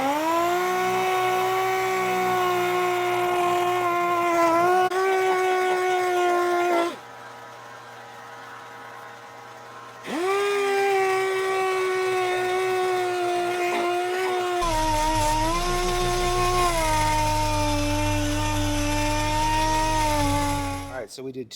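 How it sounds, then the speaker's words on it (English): A dual-action sander works an epoxy tabletop with a steady, strong harmonic whine that cuts out for a few seconds midway, then starts up again and holds at a slightly shifted pitch to the end. "So we did 250 and 350 grit on the DA sander"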